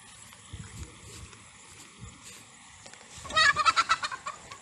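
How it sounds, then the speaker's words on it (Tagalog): A chicken clucks several times in a quick burst near the end, following quieter rustling and faint background noise, at a fishpond farm. "May manok pa"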